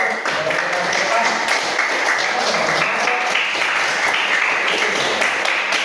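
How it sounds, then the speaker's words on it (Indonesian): A classroom of students applauds a student group after a presentation, the dense clapping steady and sustained across the whole stretch, loud and close with no pause. "tepuk tangan dulu buat kelompok 1"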